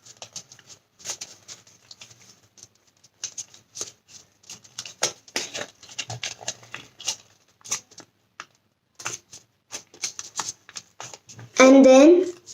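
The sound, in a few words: folding paper for a hummingbird origami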